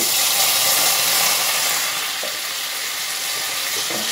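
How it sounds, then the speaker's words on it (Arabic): Washed rice fries in hot oil in a pot, giving a loud, dense, continuous sizzle that holds steady alone from start to finish. "ومن بعد تالي باش نقليه في الزيت"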